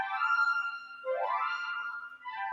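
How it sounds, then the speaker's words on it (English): A Roland 106 synthesizer keyboard plays a bright, sustained electronic tone with stacked harmonics. Midway it bends into a swooping pitch glide before settling, all heard alone with no talking. "So this is a Roland 106, and it sounds like this."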